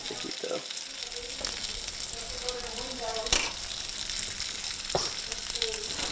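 Cold pre-cooked onions sizzle in a hot pan while an egg sandwich is made, a steady crackling fry with light stirring scrapes and a sharp clatter midway.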